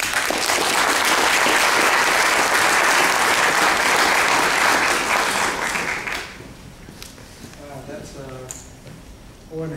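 Dense applause from a lecture audience at a municipal water district drought talk, loud and sustained for about six seconds before thinning into scattered claps and a few voices.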